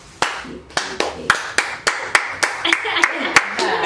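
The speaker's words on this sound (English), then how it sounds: "Slow clap." A couple of hosts deliver a deliberate slow clap, about a dozen crisp, close hand claps spaced evenly and quickening slightly toward the end.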